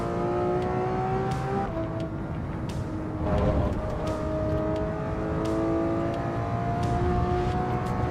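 Race car engine in the Assetto Corsa driving game, a steady droning whine with rising and falling harmonic pitch as it revs and shifts, loud and continuous throughout.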